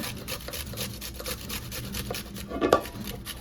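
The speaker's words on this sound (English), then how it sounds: "I'm gonna take and grate this onion into my hamburger, just like that" An onion is grated by hand into raw hamburger meat, giving a steady close rasping scrape with repeated strokes and one brief louder knock near the end; no talking.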